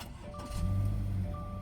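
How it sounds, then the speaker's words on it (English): A 2020 Subaru Crosstrek with the 2.0-liter FB20D direct-injected engine starts up: a brief starter whir followed by the engine catching into a low, steady idle hum, heard alone and close. "press the start button to go"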